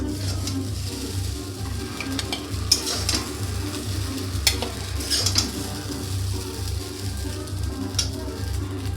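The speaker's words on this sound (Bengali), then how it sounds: "এটা আবার ভাজা হয়ে গেছে তুলে নেব" Food for a veg and non-veg chowmein recipe sizzles steadily while frying in a pan, with a few louder scrapes and clinks of stirring scattered through the continuous hiss and no talk.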